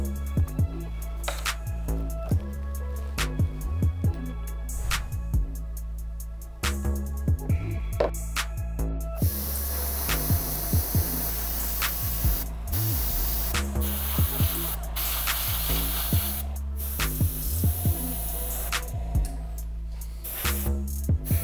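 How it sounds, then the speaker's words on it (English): Airbrush hiss of green paint being sprayed onto a pair of Air Jordan 3 sneakers, steady close spraying in repeated bursts with brief pauses between passes, no talking. "We're gonna lay it down using my airbrush."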